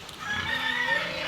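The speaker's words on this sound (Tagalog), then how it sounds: "Tayo atin na po titingnan yung ating mga manok" Chickens clucking with a rooster's crow rising through, a busy farmyard flock heard steadily and fairly close during rainy weather.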